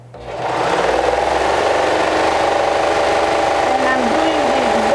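Sewing machine running a steady, loud, close seam along the top and back of a hood lining, starting up and then holding a fast whirring hum.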